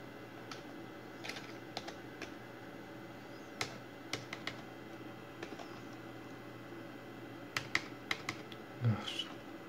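Typing a command on a computer keyboard while setting up a Raspberry Pi: scattered single keystrokes and short bursts of clicks, fairly close and quiet, with a steady low hum underneath and no talking.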